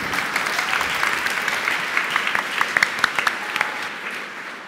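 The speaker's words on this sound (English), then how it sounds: "Quick round of applause," Audience applause fills a conference hall at a PyCon UK lightning talks session, steady and broad throughout, with sharper individual claps standing out near the middle before it fades slightly at the end.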